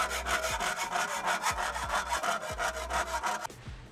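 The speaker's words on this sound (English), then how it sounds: "We're going to get a file to smoothen this off." A hand file rasps back and forth across metal during a Z1 Motorsports big brake kit install, with about a dozen evenly spaced scraping strokes, close and steady, ending abruptly.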